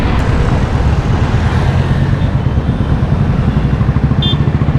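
A Royal Enfield Classic 350 motorcycle engine runs close and loud with a steady low thumping rumble during a slow U-turn.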